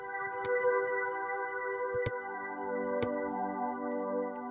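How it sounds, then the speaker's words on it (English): Sustained Roland JV-1080 synthesizer chord with a smooth string-like layer over a soft rumbling texture, steady and continuous, with a few faint clicks. "it's adding this string type of sound to it"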